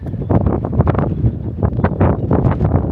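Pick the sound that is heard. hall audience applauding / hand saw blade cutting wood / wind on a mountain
wind on a mountain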